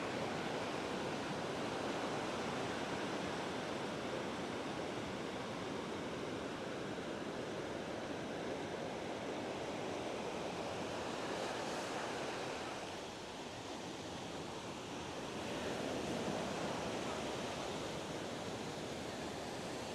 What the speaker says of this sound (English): let's just take a moment to take a look at the beach here in Patong.